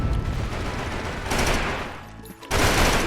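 Heavy gunfire in the mobile shooter Mega Zombie M, a dense, loud, continuous stream of automatic shots with a brief lull before another intense burst.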